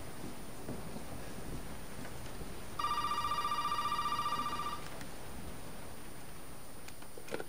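An old telephone rings inside a house in Resident Evil 7, a steady electronic trill lasting about two seconds over a bed of rain and distant storm noise, with no talking.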